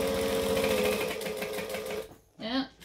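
A sewing machine stitches a Pelican tote bag in a rapid, loud, close mechanical run that stops near the end, followed by a brief burst of someone talking.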